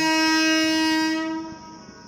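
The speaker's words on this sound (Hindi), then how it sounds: "फाइनली मैं आपको बरवाला स्टेशन का डिपार्चर दिखा रहा हूँ" Ludhiana express special train departing Barwala station on an Indian railway line, its horn blaring loud and steady for about a second and a half before fading out, with a low rumble of the train beneath.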